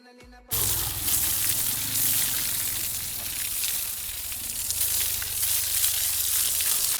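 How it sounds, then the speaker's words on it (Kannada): A hose spraying water onto a house under construction, a loud steady hiss and splatter that starts abruptly and continues close and unbroken, with a low rumbling hum beneath. "ಏನ್ರಿ ನೀರು ಹೊಡ್ಯಾಕತ್ತೀರೇನ್ರಿ"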